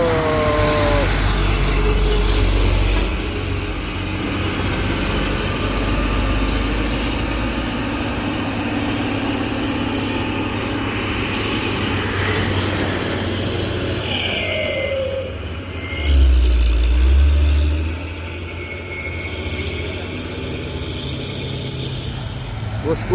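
An overloaded heavy truck engine rumbles and strains steadily uphill at close range, with a low droning growl that swells briefly near the end, under occasional talk.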